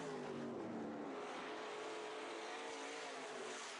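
Sport modified race cars racing at Santa Maria Speedway during heat races, engines roaring at a distance with a sustained, slowly shifting drone as cars pass.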